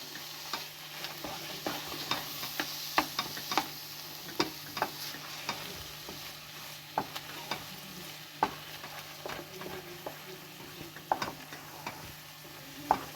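Khoya stirred into carrot halwa in a pan: rhythmic spatula scrapes and taps over a low, steady sizzle, close and clear with no voices.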